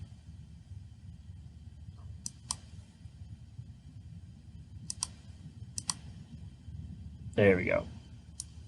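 Sharp computer mouse clicks come in scattered pairs during work in Onshape CAD software, faint against a low background hum, with a brief spoken phrase near the end.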